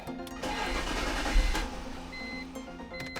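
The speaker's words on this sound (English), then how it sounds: "come back and give the car a start" A BMW car engine starts up after headlight work, the crank and catch rising into a steady, fairly loud idle over a few seconds with no talking.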